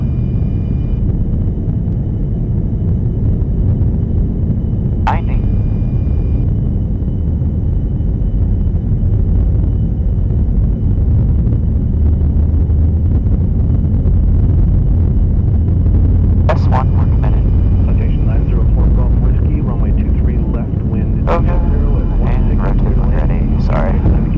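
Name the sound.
USAF tanker aircraft jet engines at takeoff thrust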